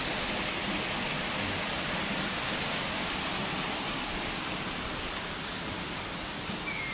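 Waterfall at a river swimming spot with natural pools, a steady broadband rush of falling water close by, loud and constant throughout with no talk.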